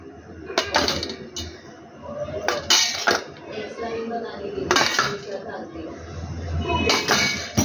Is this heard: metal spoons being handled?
yes